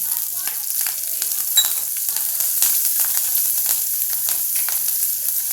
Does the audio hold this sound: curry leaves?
yes